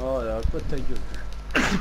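A single sharp sneeze bursts out at the end, close and loud, right after a short stretch of excited talking in a voice chat during GTA Online play.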